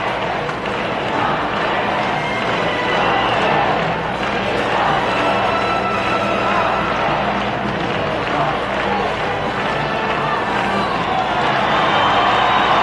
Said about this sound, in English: some people in the crowd still shouting, "We want Ted, we want Ted."